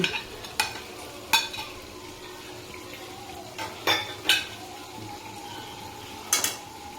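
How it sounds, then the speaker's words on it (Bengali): Chicken and papaya stirred in a pan for butter chicken, with a few sharp scraping clacks of a spoon against the pan over a low, steady background hiss. "এবার আমরা ভালো করে একটু নেড়ে নেব"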